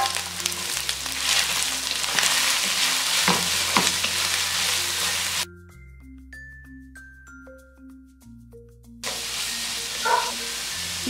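Chopped onion and carrot sauté in a pan with a close, steady sizzle and stirring, broken by a quiet stretch with tonal background music before the frying returns.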